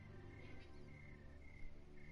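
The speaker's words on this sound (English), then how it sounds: "Hear the crickets trying to play a violin for you, Nick?" Crickets chirp in the ambient night soundscape of The Walking Dead Season 2 video game, a faint, steady insect trill that runs without any voices.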